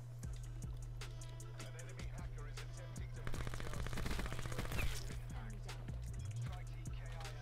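Light machine gun fire from a video game, rapid bursts of automatic shots crackling close and loud over a steady low hum, with a denser stretch of firing in the middle.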